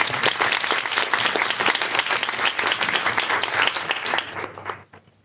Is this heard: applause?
yes